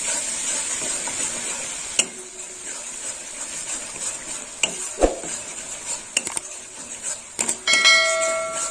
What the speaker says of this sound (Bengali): আর একটু নেড়ে ছেড়ে নেব